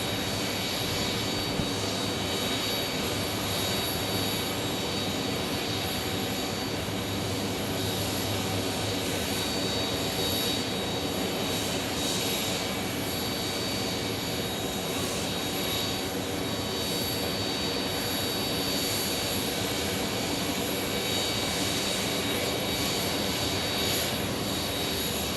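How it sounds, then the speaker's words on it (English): A UPS Boeing 747 at Phoenix Sky Harbor Airport gives a sustained, loud jet engine roar with a high whine, continuous and unbroken throughout. "The UPS 747."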